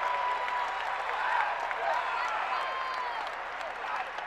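A Quaker home crowd at Penn's Palestra applauds and cheers through a men's basketball game against Harvard. The clapping is loud and steady throughout, with crowd noise and talk over it.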